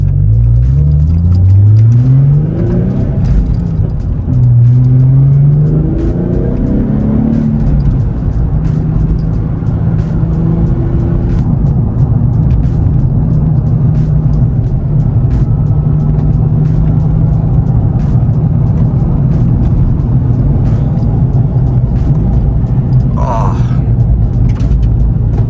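A Nissan 350Z engine revs up through several gears nearby, then settles into a steady droning cruise with road rumble throughout.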